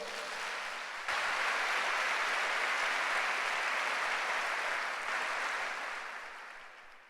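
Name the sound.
congregation applause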